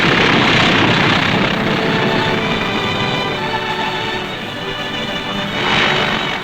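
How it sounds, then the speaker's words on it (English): A military airplane lands on a newly built wartime airstrip at Tarawa, its loud, steady engine roar filling the scene and swelling again near the end. "The first plane landed just 24 hours after the Seabees had started to work."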